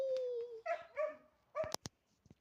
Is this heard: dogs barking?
yes